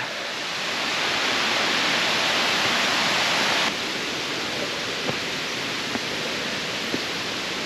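A waterfall in Laos roars with a dense, steady rush of falling water, loud and continuous, dropping slightly in level partway through with a few faint clicks.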